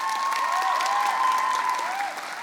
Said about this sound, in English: Scholars, give one more round of applause.